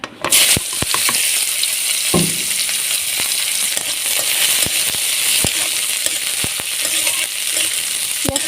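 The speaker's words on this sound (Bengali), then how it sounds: "মরিচ ভাজা শেষ পেঁয়াজটা ভেজে নেব" Onion frying in a pan for aloo paratha, a steady, close, loud sizzle running throughout, punctuated by scattered clicks and scrapes of stirring, with no one speaking.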